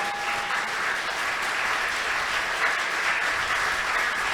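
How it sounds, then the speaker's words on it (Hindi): Audience at a Ram Katha religious discourse applauding together, a continuous, even patter of many hands clapping at moderate level for several seconds, with no speech over it. "एक बार जोरदार ताली बजाइए भगवान राम दरबार के लिए"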